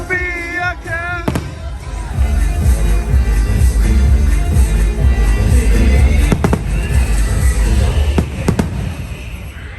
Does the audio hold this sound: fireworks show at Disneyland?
yes